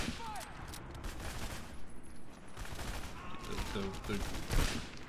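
Springfield rifle fire in the World War II shooter Medal of Honor Airborne, with sporadic shots and distant battle gunfire under a steady game soundscape, fairly faint.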